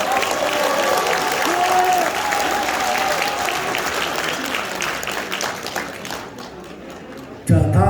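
A crowd at a party members' convention applauds in a loud, steady burst of clapping that slowly fades, followed by a brief thump at the end.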